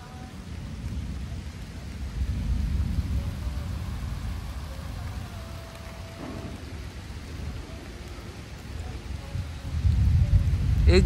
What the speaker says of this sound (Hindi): बारिश आ चुकी है, देखो यहाँ से बारिश आ रही है।